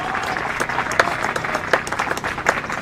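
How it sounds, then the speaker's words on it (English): A crowd applauds players from North Central Missouri at a baseball team announcement, steady clapping with a few sharp individual claps standing out throughout. "Give these guys a round of applause from North Central Missouri."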